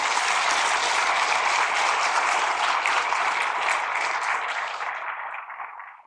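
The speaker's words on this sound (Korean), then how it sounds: "우리 어르신들을 위해서 우리 박수를 한번 축복합시다" A church congregation applauds its elders with thick, sustained clapping that holds strong for several seconds, then tapers and fades out at the close.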